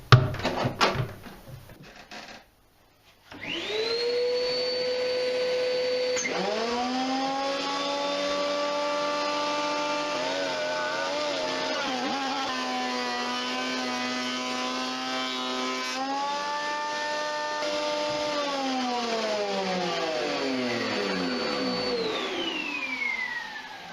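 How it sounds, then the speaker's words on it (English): A thicknesser planes pine boards with a dust extraction system running, a loud, sustained machine whine that holds steady with shifting tones as the wood feeds through, then winds down at the end. "So just ran a load of pine through the thicknesser"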